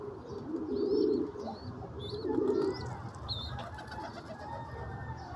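Pigeons and young squabs in a loft coo in low, throaty bursts, two strong rolling coos standing out among softer chirps and faint wing flutters against steady background noise.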